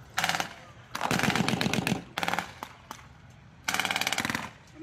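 Bursts of machine-gun fire at a WWII re-enactment battle display, rapid rattling volleys separated by short pauses, with single sharp shots between them, loud and close.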